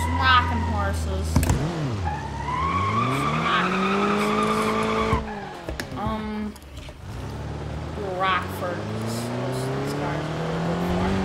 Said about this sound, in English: Spinning tires.